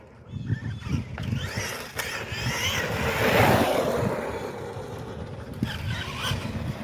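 Traxxas Revo 3.3 RC truck converted to electric power, accelerating with a rising whine and whirr over the rough crunch of tires on the ground, loud and near, swelling toward the middle and staying strong to the end.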